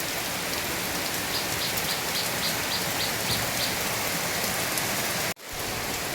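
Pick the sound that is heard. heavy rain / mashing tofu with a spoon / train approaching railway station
heavy rain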